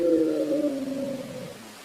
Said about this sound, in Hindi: तभी वह काला बंदर जोर जोर से चिंघाड़ने लगता है।